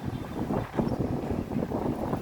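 Strong wind rushes and buffets steadily across an open, unsheltered area with trees, a continuous rough roar with gusty swells and no voices.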